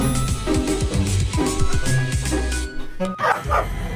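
A dog barks in quick repeated bursts, loud and close, with a few yips mixed in and a brief pause near the end before more barking.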